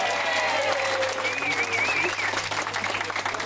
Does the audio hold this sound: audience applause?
yes